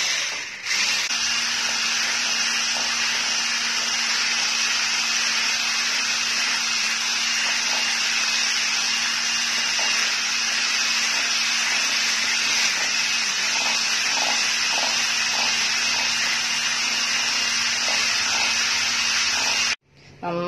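An electric beater whips cream with powdered sugar, making a steady, close, high-pitched whirring that runs unbroken for about twenty seconds before cutting off.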